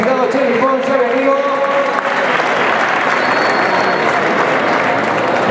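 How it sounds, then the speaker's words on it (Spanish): Loud, steady applause from a crowd honoring the podium finishers at a dirt rally championship round in Lorca, Murcia, with a voice speaking over the clapping at the start. "Fuerte aplauso para ellos"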